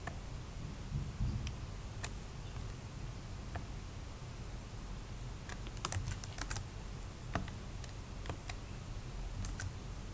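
Quiet, irregular clicks of a computer keyboard as someone types while copying and pasting code, with clustered keystrokes and short pauses over a faint room hiss.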